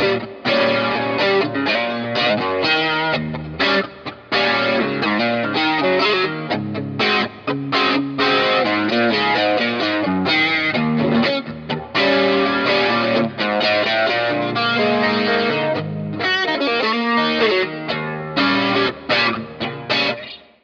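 Electric guitar running through an amp's effects loop: a loud, continuous, busy bluesy lead with gritty distortion and a touch of chorus, played alone for about twenty seconds.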